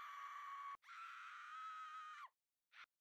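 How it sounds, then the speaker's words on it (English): Panic scream sound effect, a sustained shrill shriek that breaks briefly and then continues, followed by a short clipped scream after a pause, loud and isolated. "We need like a scream, like a panic scream."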